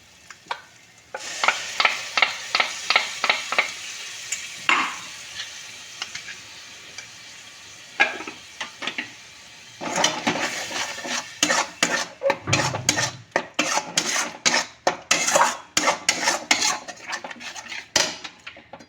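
Tomato paste being stirred and fried in a pan for palak paneer: a utensil scrapes and clinks against the metal in quick, repeated strokes over a soft sizzle, close and fairly loud, with no talking.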